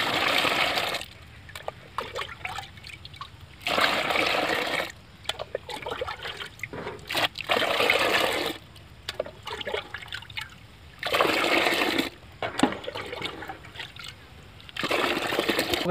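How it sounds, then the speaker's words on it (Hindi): Bursts of water pouring into a homemade humic acid mixture made from dried dung cakes, about five litres added, in several splashing, trickling pours separated by short pauses. "पाँच लीटर के करीब पानी मिलाएंगे।"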